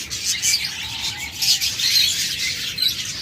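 Budgerigars kept in cages at a bird sale chirp and twitter steadily, a dense high chatter of many small birds close by, with no talking.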